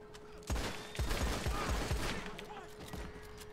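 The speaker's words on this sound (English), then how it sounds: "it's got a much better fire rate than the Schofield or the LeMat" Revolver fire in Red Dead Online, a run of five sharp, loud shots spaced roughly half a second apart, each with a short echoing tail, over steady game ambience.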